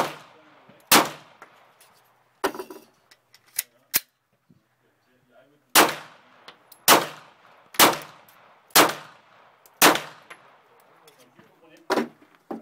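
Sharp, loud shots from a Glock 9mm pistol fitted with a switch ring out at a speed-shooting demonstration, about a dozen cracks spaced irregularly with quiet gaps and faint clinks between them.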